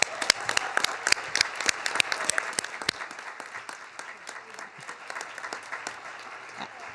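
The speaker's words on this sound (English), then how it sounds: "So let's give him a big round of applause." Applause at a city council meeting: a crowd claps loudly with crisp, distinct claps, then the clapping thins and fades toward the end, with faint voices underneath.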